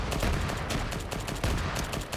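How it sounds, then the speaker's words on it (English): A .50 caliber machine gun fires in a military simulation game, with rapid, repeated heavy shots rattling out in a sustained, loud burst. "We're hearing that 50 firing out."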